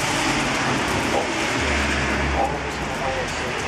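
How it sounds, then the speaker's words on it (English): Steady rain and gusting wind fill the outdoor air with a constant broadband rush and a low rumble underneath, during a street gospel tract distribution. "It's raining, it's windy."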